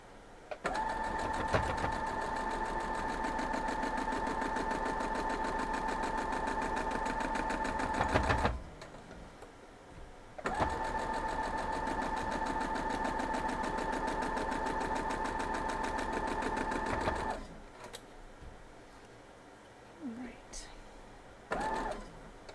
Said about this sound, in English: now we're just going to sew all these up